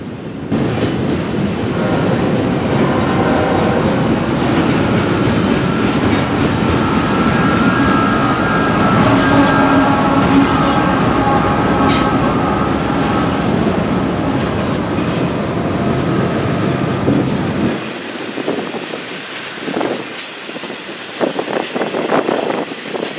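A long freight train with a mid-train locomotive rumbles past close by, moving slowly, with a heavy continuous roar and rattling cars, then the noise drops away, leaving scattered clanks and creaks.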